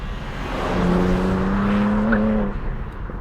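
Turbocharged S58 engine of a 2023 BMW M2 droning steadily as the car drives past, a smooth continuous tone that swells and eases off, moderately close with no speech.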